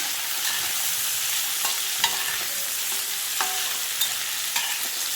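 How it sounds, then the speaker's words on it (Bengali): Stem pieces and potato frying in a pan with green chillies, a continuous close sizzle broken by light spatula scrapes and taps at intervals, with no talk. "ডাঁটা আলু ভাজতে ভাজতে ওর মধ্যে আবার কাঁচা লঙ্কা দিয়ে দিলাম।"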